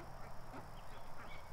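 Ducks around a farm pen give faint, scattered quacks and honks against a quiet background.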